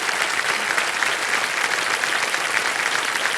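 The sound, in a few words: studio audience applause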